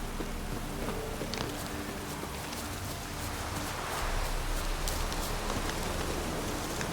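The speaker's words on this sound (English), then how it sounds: "Looks like rain." Steady rain patters across the scene in the video game The Witcher 3: Wild Hunt, a constant wash of drops with faint buzzing insect-like texture underneath, growing slightly louder toward the end.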